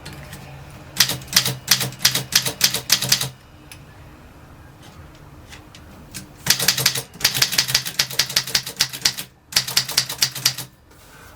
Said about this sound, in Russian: Литера ударяет по верхней половине ленты.